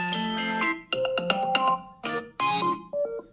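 An iPhone 16 ringtone plays alone, a clear series of bright melodic chime notes in short bursts separated by brief gaps, moderately loud and close.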